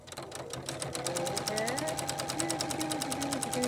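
Sewing machine stitching yellow trim onto a firefighter coat, a fast steady mechanical needle chatter running continuously at close range, with a faint hum underneath.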